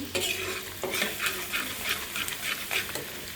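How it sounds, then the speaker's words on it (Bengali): Onion, garlic and dried red chili fry in oil for a dal tempering, a bright sizzle broken by quick, rhythmic scraping stir strokes, close up with no talk. "পেঁয়াজ রসুন আর শুকনো মরিচ দিয়ে ভেজে নিচ্ছি"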